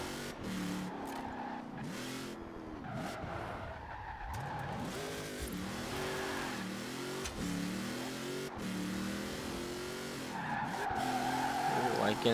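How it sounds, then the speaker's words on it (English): A Ford Mustang Fastback in Forza Horizon 4 drifts with long, wavering tire squeals and a revving engine rising and falling, continuous and fairly loud, while a voice talks over the action. "Can drift with this thing."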